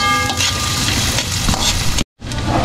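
Garlic and onion sizzle in hot oil while frying toward golden brown, a steady crackling hiss close up that cuts out briefly near the end and then resumes.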